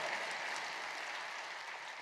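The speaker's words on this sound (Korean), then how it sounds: "우리 하나님께 영광의 박수를 드리겠습니다" Steady applause from a congregation at a church service, dense and continuous clapping at a fairly even level, somewhat distant.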